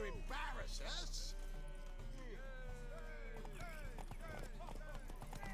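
Horse hooves clip-clopping in a fantasy video game, a quiet rhythmic patter under game music and speaking voices that continue throughout.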